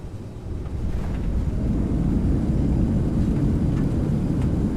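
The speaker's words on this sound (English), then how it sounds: "Alright, thrust reversers out." Thrust reversers deploying on an Aerosoft CRJ regional jet in Microsoft Flight Simulator 2020, a deep rumbling roar that swells and then holds steady and loud through the landing rollout.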